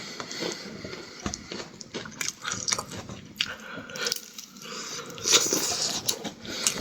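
Close, wet biting and chewing of hot steaming food, repeated crunchy bites and mouth sounds in uneven rhythm, fairly loud with no talking.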